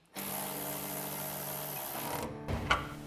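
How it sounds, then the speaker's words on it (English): A ratchet with a 15mm socket tightens an exhaust hanger bolt on a Sierra 1500 during a dual exhaust install. A steady motorized whir runs for about two seconds, then a few sharp clicks follow nearby. "I'm gonna grab my ratchet, 15mm socket,"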